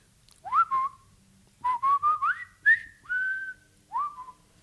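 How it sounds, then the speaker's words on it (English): A person whistles the Bridge Over the River Kwai march tune, a clear solo whistle of short sliding notes in a bouncy phrase, close and fairly loud with no other sound. "let me whistle Bridge Over the River Kwai on the show as much as I want to"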